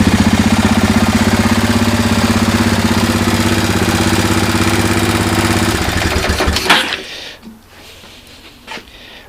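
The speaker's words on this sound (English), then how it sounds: "I'm happy with the way the engine's fixed up and runs good and seems to start easily" A Kawasaki Lakota ATV engine, freshly given an oil and filter change, runs with a steady loud mechanical rattle for about six seconds, then cuts off abruptly, leaving faint scattered noises.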